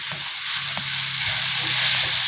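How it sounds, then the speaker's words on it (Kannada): Finely chopped onions sizzling in a pan for hotel-style idli sambar, a steady close frying hiss with light stirring scrapes, no talking. "ಸಣ್ಣಗೆ ಹೆಚ್ಚಿರೋ ಈರುಳ್ಳಿನ ಹಾಕ್ತಾಯಿದ್ದೀನಿ"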